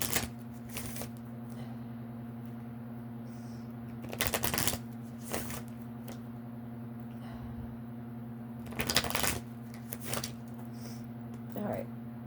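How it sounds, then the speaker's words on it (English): Tarot cards shuffled in several short bursts, crisp riffling rattles separated by pauses, close by over a steady low hum. "let's do 3 shuffles"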